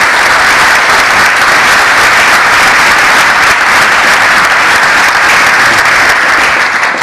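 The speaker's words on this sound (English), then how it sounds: "big round of applause" Sustained, dense applause from a large audience for a finance panel, loud and steady throughout with no break and no voices over it.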